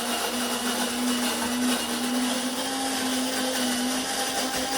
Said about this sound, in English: I ran out of coffee grinding, so I'm just grind some coffee